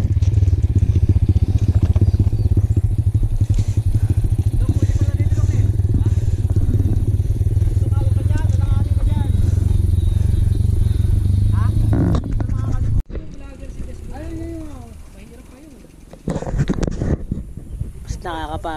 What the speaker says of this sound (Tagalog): Tingnan yung mga motor dito.